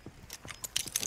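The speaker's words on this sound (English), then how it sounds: "I'm out. Reloading." A weapon being reloaded in the video game America's Army: Proving Grounds: a quick run of sharp metallic clicks and clacks, close and fairly quiet, with the last few strokes the crispest.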